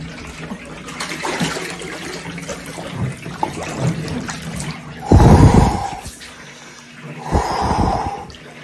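Someone climbs into a cold plunge tub, and the water swishes and sloshes close by. Two heavier surges of splashing come near the end.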